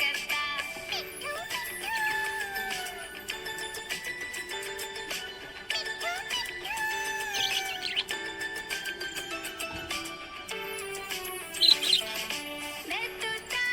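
Happy pet budgie chirping continuously, a dense stream of bright tweets and warbles at close range over a steady background of music.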